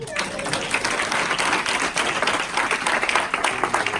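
Congregation in a church applauding to acclaim the Lord, a steady, loud wash of many hands clapping throughout, with crowd voices mixed in.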